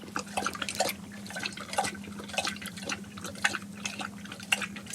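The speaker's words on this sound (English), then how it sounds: "So we'll just finish off with my dog drinking some water." A dog laps water from a bowl in quick, irregular wet slurps, close and moderately loud, over a steady low hum.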